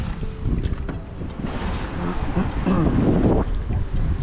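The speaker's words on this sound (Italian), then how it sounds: "Adesso si sta alzando un vento terribile" A strong, rising wind blows across a small tent campsite during the Tuscany Trail 2024, buffeting the microphone with a steady rushing roar and rumbling gusts.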